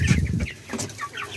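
Chickens on a rooftop cluck in several short, close calls, with soft overlapping clucks and a few sharper notes over quiet background noise.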